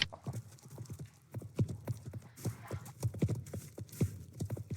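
Horse hooves clip-clopping in the video game Star Stable, a steady rhythmic trot of soft thuds with an occasional whinny, moderately loud and alone.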